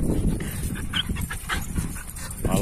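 A Kangal dog and a wolf-like Malinois close by, giving short whimpers, yips and panting in quick irregular bursts, fairly loud and near, with no talk over them.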